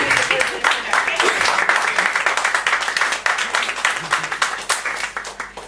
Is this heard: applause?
yes